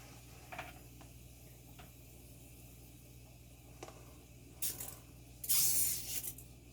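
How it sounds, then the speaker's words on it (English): Faint clicks and a low background hum, then two short hissing bursts of a small pump sprayer misting water onto land snail substrate near the end. "Spray it with my little pressure sprayer."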